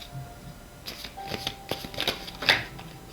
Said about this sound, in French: On va aller prendre d'autres cartes